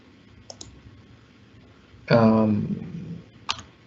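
A few crisp computer mouse clicks, one early and one late, sharp and fairly close. A short stretch of speech sits between them.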